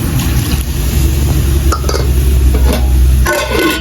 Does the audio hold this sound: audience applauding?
no